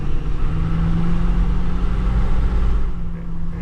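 A Ford F250 with a 6.7L diesel engine and cold air intake idles and rolls at low RPM, a steady deep rumble with a faint turbo whir, constant and close with no talk.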